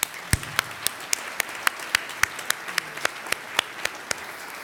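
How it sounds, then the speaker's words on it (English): An audience at an evening talk on human trafficking applauds: a modest room of clapping with a steady series of distinct, sharp individual claps standing out above a soft background of hand claps. "Let's give them another round of applause."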